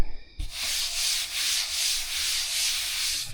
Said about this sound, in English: I'm not afraid to run my hands across the wood and maybe get a splinter.